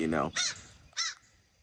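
Two loud, harsh caws from a crow outdoors, each about a quarter second long with a short gap between them, fading afterward into quiet background noise.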